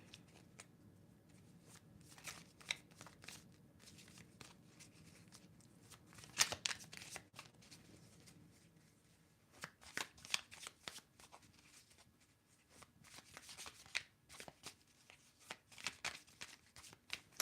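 Several bursts of cards being riffled and shuffled, crisp fluttering rattles separated by quiet pauses, close and fairly soft.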